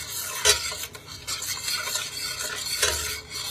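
Taco sauce being stirred in a pan for jerk chicken tacos, a steady scraping and rubbing with a few sharper clinks of utensil against the pan, close and moderately loud, with no talk.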